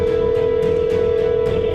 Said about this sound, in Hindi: शॉन फिर से बाबा को फोन लगाने की कोशिश करता है।